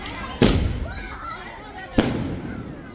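Two sharp firecracker bursts go off at a Holi bonfire, each a loud crack trailing into a short rumbling decay, spaced about a second and a half apart against steady outdoor background noise.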